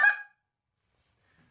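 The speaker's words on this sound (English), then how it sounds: "It's not quite a rolling double cluck, but it's a double cluck where it's a step up." A goose call sounds a quick double cluck that steps up in pitch, one short sharp honk near the start followed by silence and a faint trailing note.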